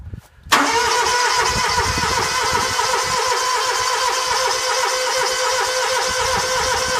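A Scag Tiger Cat II mower engine cold starting with the choke on and a weak battery: after a brief cranking moment it catches and runs steadily and loudly, close up, with no one talking over it.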